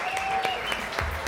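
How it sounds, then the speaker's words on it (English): A brief burst of steady clapping from an audience, dense and even throughout. "let's give Ji a round of applause"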